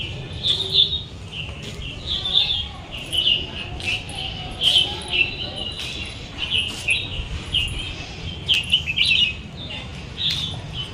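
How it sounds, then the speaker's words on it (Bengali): A bird calls repeatedly from a tree in a leafy, wooded village yard, with bright, high chirps recurring every second or two over a low, steady background hum. "এইদিকে কোথা দিয়ে একটা সুন্দর পাখি ডাকছে"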